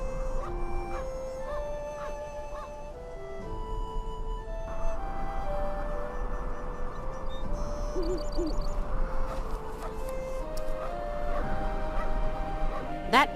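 Owl-like bird hooting in the Syberia II adventure game, repeated clear hoots over a busy game soundscape with tonal music and effects, loud and near.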